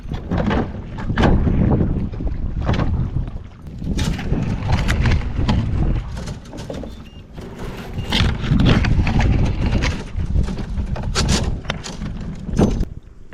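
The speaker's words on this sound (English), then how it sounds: "It's getting choppy and really windy out here." Strong wind gusting over choppy water on a fishing boat at Parker, Arizona, a loud, continuous buffeting roar close on the microphone with irregular thumps and knocks, no voices.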